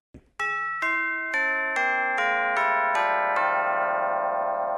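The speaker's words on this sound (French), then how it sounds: "ce son-là, très précis, c'est une cloche tubulaire" A brass metal tubular bell chime struck seven times in a descending run, each ringing strike clear and close, the tones overlapping into a sustained shimmering resonance that hangs at the end.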